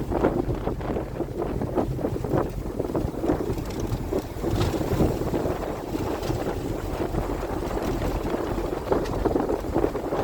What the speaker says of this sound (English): we're driving through a clear cut